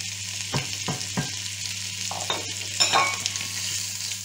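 Onion frying in a pan while being stirred, a constant sizzle with several distinct spoon scrapes and knocks against the pan, close up and without speech.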